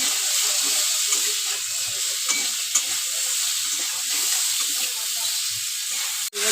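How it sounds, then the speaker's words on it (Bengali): A spiced fish curry base fries in a pan with salt, with a steady close sizzle and hiss throughout and a few soft stirring scrapes, no talk. "স্বাদ মতো লবণ দেবো দিয়ে একটু ভালো করে ভাজা ভাজা করে নেব"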